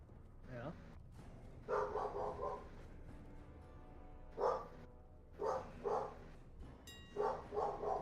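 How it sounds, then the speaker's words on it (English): A dog barks in short, repeated bursts, several yaps spaced across the stretch, with voices chatting in the background. "And she's barking at Ghost."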